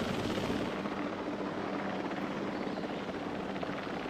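A helicopter airlift in the Jurassic World Evolution 3 video game, heard as a dense, continuous rotor roar at steady loudness with no talk.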